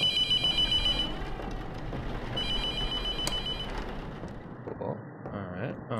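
A telephone rings in The Mortuary Assistant horror game, two loud, clear bursts of electronic ringing separated by a short gap, set over a low rumbling background.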